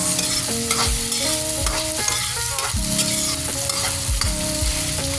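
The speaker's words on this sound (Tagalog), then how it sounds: "Kapag kumulo na siya, guys, haluin mo ulit." Egg and tomato frying in a pan with steady stirring, a close, continuous sizzle broken by repeated scrapes and clinks of the utensil against the pan, no voices.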